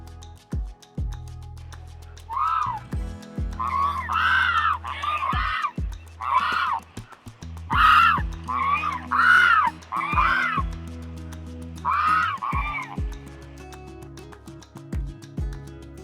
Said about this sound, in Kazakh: Бұл бір қазан.